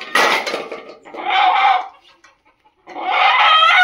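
A desi chicken clucks loudly and close in three agitated bursts, with a short pause before the last one.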